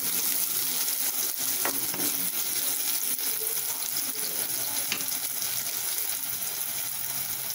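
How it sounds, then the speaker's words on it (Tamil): Onions sautéing in a pan with salt for a Tamil chickpea curry give a steady, close sizzle that holds level throughout, with faint scrapes of stirring and no talk. "உப்பு போட்டால் வெங்காயம் சீக்கிரம் வதங்கிடுங்க."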